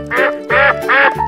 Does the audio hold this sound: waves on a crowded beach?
no